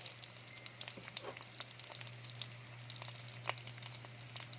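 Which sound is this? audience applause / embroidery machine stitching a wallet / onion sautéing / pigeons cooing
onion sautéing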